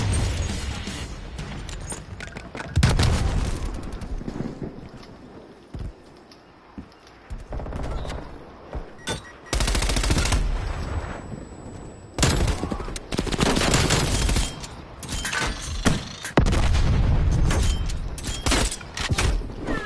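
Gunfire from the Call of Duty Black Ops Cold War shooter on PS4, with dense automatic bursts and fusillades rattling loudly in repeated waves through the clip, broken by brief lulls.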